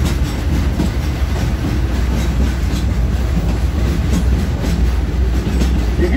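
Riding aboard the Frisco Silver Dollar Line steam train in the Ozarks, loud and close: a continuous rumble of wheels on track with rhythmic clickety-clack and faint squeals, no voices.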